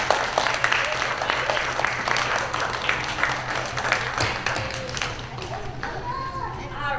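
Applause for student award winners at a school gathering: a dense, steady patter of many hands clapping at once, loud and continuous, tapering slightly toward the end with a few voices over it.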